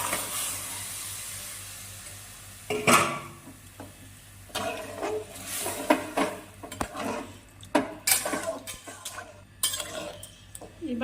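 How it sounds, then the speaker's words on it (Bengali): Boiled peas and water go into a pot of well-fried spiced masala, bringing irregular clattering and scraping from a spoon against the pot, with wet splashes in separate bursts across the stretch. "এখন জল সহকারে সেদ্ধ করা মটরটা দিয়ে দিব।"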